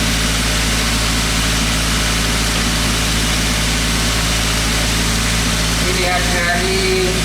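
A fuel-injected car engine idles fast, around 1000–1200 rpm instead of the usual 900, with a steady, loud, continuous hum close by and no break in the drone.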